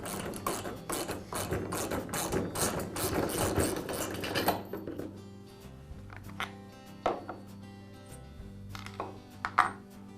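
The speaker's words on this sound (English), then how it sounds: "I'll use a socket wrench to remove the bolt." Socket wrench taking a bolt off a Coleman grill wheel: rapid ratchet clicking for about four seconds, close and fairly loud, then a few scattered clicks and metal knocks over a quiet hum.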